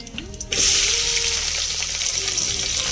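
Sliced onion added to hot oil already holding masala spices for vegetable kurma, a brief clatter before a sudden loud, steady hiss of frying that carries on close up and unbroken, without speech.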